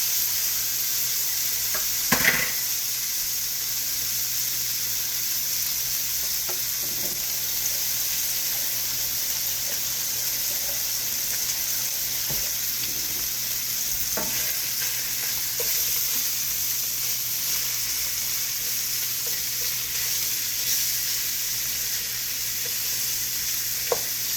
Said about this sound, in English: So now back in the pan, my ham goes.